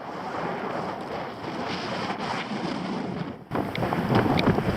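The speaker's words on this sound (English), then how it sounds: "Sorry, it's a bit windy today." Strong wind buffets the microphone outdoors in an open field on Anglesey, a continuous roaring rumble that swells and gusts louder toward the end.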